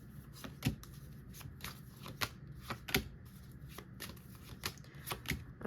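Tarot cards shuffled by hand up close, a series of crisp riffling slaps and flutters in an uneven rhythm, with no talking.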